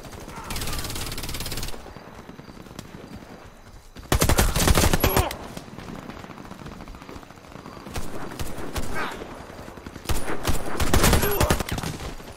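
Video game gunfire comes in rapid bursts of loud shots, heaviest in dense volleys partway through and near the end, over clattering hoof-like noise and a busy game soundscape.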